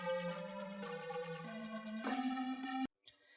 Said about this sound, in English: First sound we're going to use is the Yeet lead.